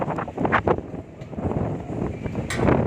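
Gusty wind buffets the microphone at Amappara on Ramakkalmedu, a loud, uneven rumble that swells and dips throughout, with brief louder bursts near the start and end.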